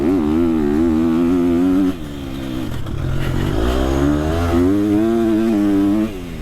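Motocross motorcycle engine revving hard and shifting gears with a quickshifter and no clutch, loud and close, the pitch climbing, dropping sharply at each change, then climbing again.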